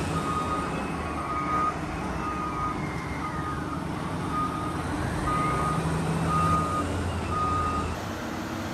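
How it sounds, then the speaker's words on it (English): A wheel loader in a marble quarry sounds steady reversing beeps in an even rhythm over a constant heavy engine rumble, heard from a moderate distance with a faint siren-like tone drifting behind. "Wheel loaders are carrying the marble blocks to the level arches, where there is more space to load the dumpers."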